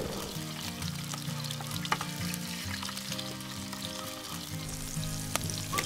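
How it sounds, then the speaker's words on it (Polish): Mushrooms and peppers fry in a pan with a steady, close sizzle and crackle, with occasional stirring clinks over the continuous hiss. "Dodajemy grzyby i smażymy je tak długo, aż lekko się zezłocą."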